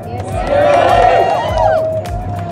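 A rally crowd cheers and whoops in a loud swelling burst, with a speaker's voice over the noise.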